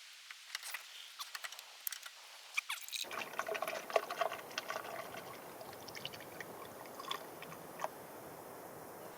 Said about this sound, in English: there's a little bit of coolant left that's gonna drain out when I pick this up